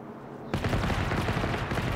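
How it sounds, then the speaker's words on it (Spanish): Gunfire aimed at the player in the video game Generation Zero: after a brief quiet moment, a sudden burst of rapid, loud shots starts and continues as a dense, sustained volley. "Aquí me están disparando"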